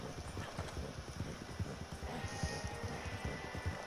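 Horse hooves clip-clop in a steady, rapid trotting rhythm in Red Dead Redemption 2 Online, moderately close and continuous over a mild ambient background.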